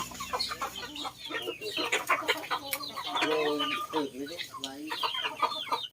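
Village chickens on a Lao-style farm cluck and call up close, sounding after days of heavy rain. The bird calls are busy and irregular, and a person talks over them.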